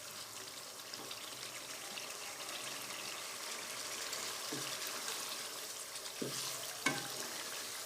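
Masala sizzles and fries in a pan for egg korma, a steady close hiss of cooking oil with occasional soft scrapes and stirs, no talking over it.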